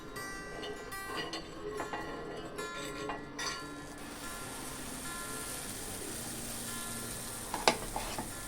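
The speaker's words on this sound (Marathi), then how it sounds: "ज्यांना खूप तेलामध्ये तळून खायचं नसेल तर त्यांच्यासाठी मी शॅलो फ्राय पण दाखवते" Airolya, a traditional quick snack, shallow-fries in a pan of oil with a soft, steady sizzling hiss, broken by a few light clinks of a utensil and a brief sharper clatter near the end. No voices.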